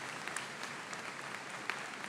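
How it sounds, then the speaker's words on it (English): Applause from an audience at a high school commencement ceremony, a soft, distant patter of clapping with a few sharper claps standing out, steady and fairly faint throughout. "you can give them a big round of applause"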